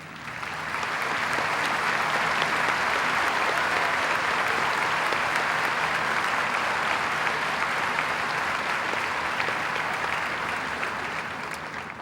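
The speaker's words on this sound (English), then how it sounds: "join me in honoring him with a round of applause" A large crowd applauds at a high school commencement ceremony, honoring a student's family. The clapping is dense and even, swelling in and holding steady for several seconds with no voices over it.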